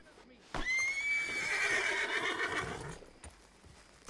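A horse in the video game Red Dead Redemption 2 Online, played on PC, gives a loud, drawn-out whinny lasting a couple of seconds, with faint hoofbeats around it.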